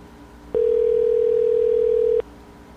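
Telephone call ringing through before reaching voicemail: a single steady electronic ring tone sounds clearly and alone for under two seconds, then cuts off to quiet.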